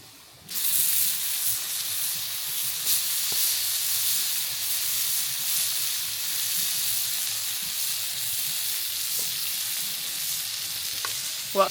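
Steady loud sizzling of potatoes, carrots, sweet potato and a scotch fillet on a hot plate over an open fire, a continuous close hiss with occasional small pops.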